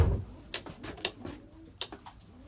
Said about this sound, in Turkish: Benim kuşlar burada arkadaşlar hepsi.